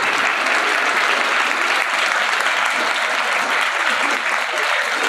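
A crowd at a school event in Naihati's Mahendra High School claps loudly for a newly elected MLA, with steady, dense applause sustained for several seconds.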